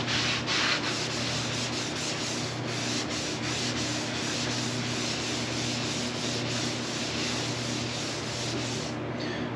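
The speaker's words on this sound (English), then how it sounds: "I'm going to put some linseed oil on this, and we're going to rub that in real good." Linseed oil being rubbed into wood by hand on a camper conversion: a steady, close, continuous rubbing and scrubbing hiss with a faint rhythmic pulse of strokes, no speech.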